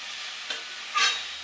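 Chilies frying in a pan are stirred, giving a soft continuous sizzle with two brief louder scraping swishes of the stirring spoon, no talking.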